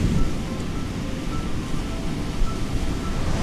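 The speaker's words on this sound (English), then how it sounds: "I'm going to have to be quick and also very vigilant that these big waves don't get me" Ocean waves break against rocks on the Isle of Skye, a steady loud wash of surf blended with wind buffeting the microphone, continuous with no pauses.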